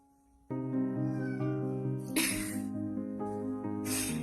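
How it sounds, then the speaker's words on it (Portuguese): A cat with a very thin, high-pitched meow, a rescued male that is missing his teeth, calls in a series of sustained tonal meows close by, with no talk over it. "E o miadinho dele é bem fino"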